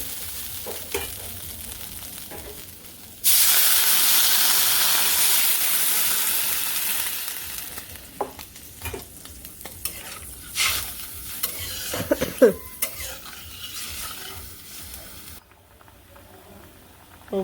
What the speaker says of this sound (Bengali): মশলা দিয়ে একটু কষে নিব তারপরে একটু ঝুল দিয়ে দিব